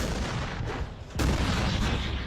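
Loud war explosions and gunfire roll in a dense, continuous barrage, with a sharp fresh blast about halfway through over heavy low rumble.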